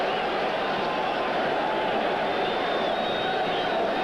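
Stadium crowd at an NFL game between the New York Jets and Buffalo Bills in Buffalo, 1986, roaring steadily and loudly throughout, a dense continuous wash of cheering with no pauses.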